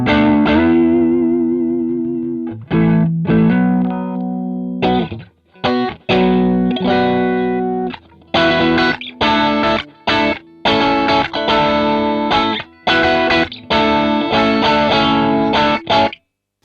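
Electric guitar played through a clean boost pedal and a Marshall Bluesbreaker reissue, bright sustained chords and single notes in phrases separated by short pauses, loud and alone.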